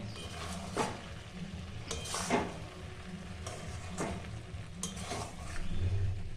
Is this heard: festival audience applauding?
no